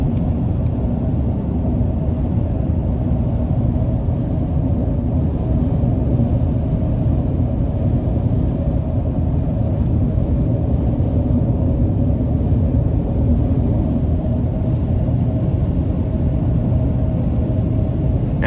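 A 2022 Chevrolet Silverado 1500 TrailBoss pickup with a 6.2-litre V8 and off-road tires pulls steadily under throttle, its deep engine drone and road rumble filling the cabin continuously and loudly throughout.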